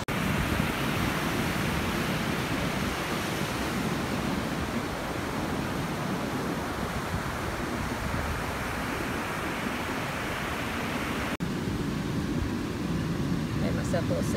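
Steady ocean surf roars continuously at a beach in Pavones, Costa Rica, where waves break along a left point break, a broad wash of noise heard from nearby on the shore.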